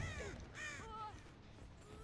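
Crows caw in the video game Dead by Daylight, several harsh, fairly quiet calls that come in quick bursts over a low game ambience, with no talking.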